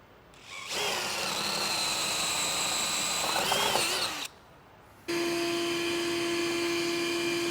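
A power drill fitted with a 25/64 bit and a stop collar bores into steel, whining loud and close for about three and a half seconds, then pausing briefly before a second steady high-pitched run, with no voices.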